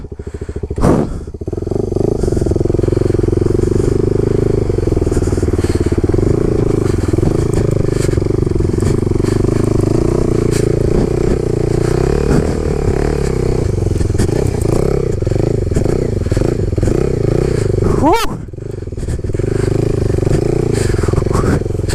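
A motorcycle on studded tires ridden over snow, its engine droning loudly and continuously with clattering and scraping from the tires, and a brief dip in power near the end.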